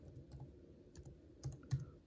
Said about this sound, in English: I'm typing that out as I speak and film.